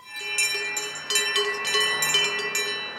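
A half-dozen pocket watches chime together in synchronicity, bright, overlapping metallic tones ringing in clustered strikes with a sustained shimmering hum beneath, fairly close and steady throughout.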